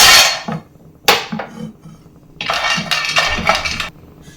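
Almonds tip into a hot pan after cashews and are stirred while roasting, giving bright metallic clatters and scraping bursts up close, loud and irregular with brief pauses between strokes.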